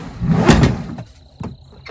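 A drawer inside a vehicle slides open with one loud, scraping rush, then a couple of sharper knocks and clicks as it settles. Nobody speaks.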